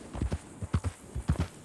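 Hooves of a Morgan horse in the RedM game clip-clop in an even walking rhythm, about ten distinct close hoof strikes falling in loose pairs, with nothing else heard.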